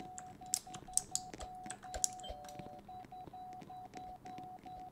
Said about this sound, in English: Who is ringing the doorbell?